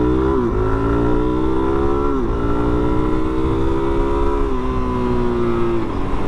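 A 2022 Suzuki DR-Z400S 400cc single-cylinder dual sport motorcycle accelerating through the gears on a twisty road, loud close engine drone rising in pitch and dropping at each of about four upshifts, heavy wind noise underneath.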